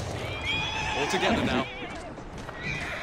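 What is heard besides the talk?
horse neighing in the video game Assassin's Creed Syndicate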